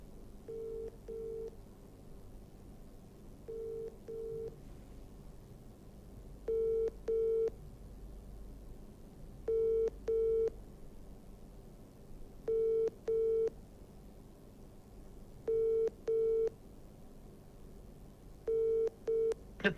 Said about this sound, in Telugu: The person you're calling is not answering.